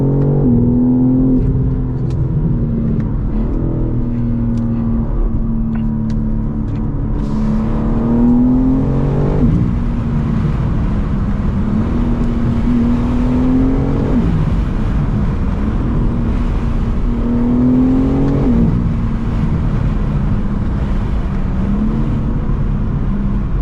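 A BMW M3 CS in all-wheel-drive sport mode accelerating hard with its wheels spinning, a loud continuous engine roar that climbs in pitch through the revs, drops sharply at shifts and climbs again, heard from inside the car.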